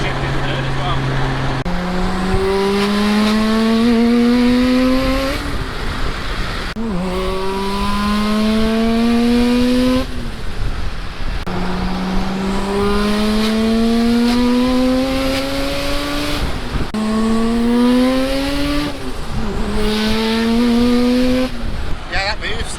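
A Mazda RX7 FD rotary engine screams up through the gears, each pull rising in pitch before a sharp drop at the shift, repeated several times, loud and close from inside the car.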